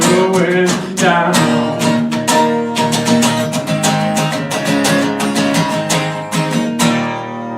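A recording of a song plays loud and full, with rhythmic guitar strums and singing over a steady band; no talk over it.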